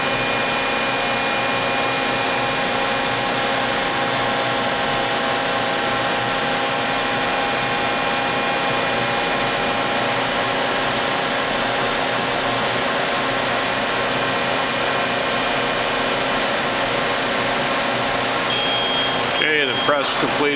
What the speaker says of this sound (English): Press completed the cycle, decompressed.